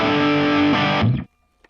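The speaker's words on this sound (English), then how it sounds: "And I've pulled up an overdriven sound. It sounds like this." A short burst of crunchy electric guitar through an overdriven amp modeler, a loud sustained chord that shifts once before cutting off abruptly, followed by near silence and a faint click.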